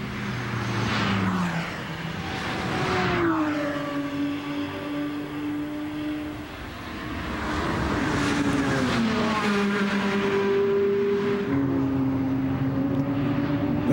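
Race cars, including a BMW built for the American Le Mans Series, at the Nürburgring 24 Hours, loud engines roaring past one after another with rising and falling pitch as they shift through gears.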